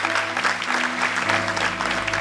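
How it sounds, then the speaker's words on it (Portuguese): A church congregation applauds, a dense and sustained rush of clapping at even loudness, backed by a low steady hum and faint voices. "Dê um aplauso bem forte a Deus."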